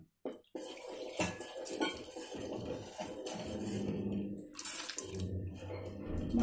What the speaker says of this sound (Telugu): దాన్ని బట్టి మనం వేడి నీళ్ళు కొంచెం పక్కన ఉంచుకుంటే ఇలా వేసుకోవచ్చు.